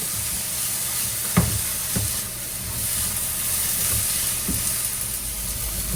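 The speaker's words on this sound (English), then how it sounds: "we're going to saute our vegetables" Vegetables sautéing in a pan, a constant soft hiss and sizzle with a few light clicks of a utensil, without speech.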